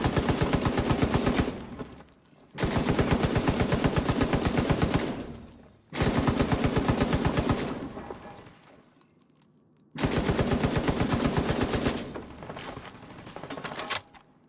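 Light machine gun fire in The Division 2, heard as four long, loud, rapid sustained bursts separated by short pauses, close and dominant, with a voice faintly under it.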